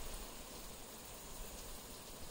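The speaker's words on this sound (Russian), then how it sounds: "смотреть на дождик и слышать, как он стучит по крыше" Rain drums steadily on a sturdy roof over a wide balcony, a faint, even hiss of drops with no breaks and no voices.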